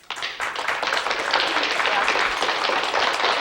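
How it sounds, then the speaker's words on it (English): An audience breaks into brisk, steady clapping that swells quickly and holds at a lively level. "if you want to give a nice little clap to Sharon Weber."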